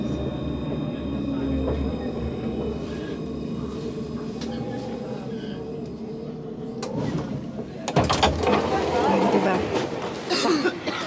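Train ride in France: a steady low rumble of a moving rail car fills the carriage, with a brief clatter and louder rolling noise toward the end, while people talk faintly in the background.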